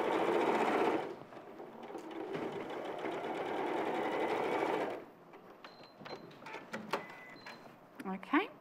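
A sewing machine stitching the shoulder seams of a top runs in a fast, steady whir for about a second, then again for several seconds, stopping to a few clicks and handling noises while people chat nearby.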